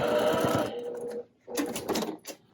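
A sewing machine backstitching a quilt seam: a fast, loud mechanical whir up close, then a short pause and two more quick bursts of stitching, with no talking.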